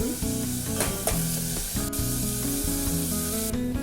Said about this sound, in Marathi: कांदा छान मऊ आपल्याला परतून घ्यायचा आहे त्याच्यामध्ये आपल्याला ठेचलेला लसूण घालायचा आहे